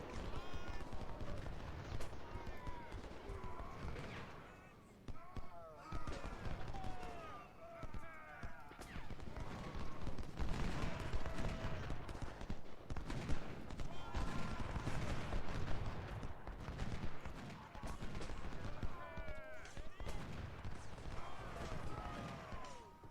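Rifle volleys and scattered musket-style shots from the Civil War battle game Ultimate General, set at Antietam, crackle continuously in the distance beneath frequent talking voices.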